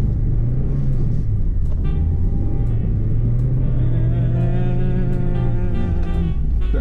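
A Mazda Miata rolls slowly back up a hill into a driveway, its engine a steady low rumble that stays close and even throughout, with no talking.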